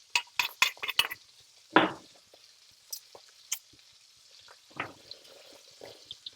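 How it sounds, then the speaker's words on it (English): Garlic hits melted butter in a pan for a creamy Tuscan butter bean sauce, with sharp utensil clinks and scrapes, a few bursts of stirring and a faint low sizzle between them, close and quiet. "We melt the butter. We add the garlics."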